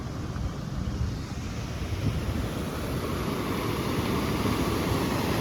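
Heavy village rain and rushing floodwater spilling from a river into farm fields make a constant broad roar, close and loud, with gusty wind buffeting the microphone throughout.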